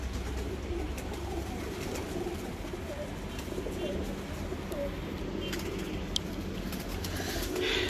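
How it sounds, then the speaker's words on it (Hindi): Pigeons coo steadily on a rooftop loft in Multan, soft repeated calls set against constant outdoor background noise. "बहुत अलग कबूतर"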